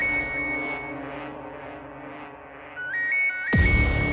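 A bright electronic ringtone chimes in short repeating tones over a low background hum, then a sudden loud thump cuts in near the end.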